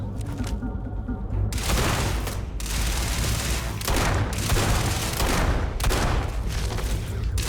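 Sustained volleys of gunfire in the video game Starfield, dense and loud with short gaps between bursts, the shooting rolling on for several seconds.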